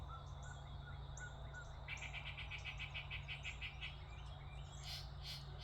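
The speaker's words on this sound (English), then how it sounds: "you can hear the critters waking up, the birds" Birds chirp and trill intermittently over a steady low hum, with a run of rapid repeated high notes midway, small and somewhat distant.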